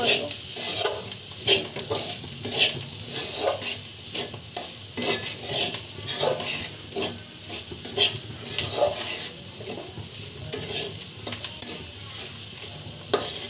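Fried bitter gourd with potato being stirred in a pan: a loud, close sizzle with repeated scraping spatula strokes in an uneven rhythm.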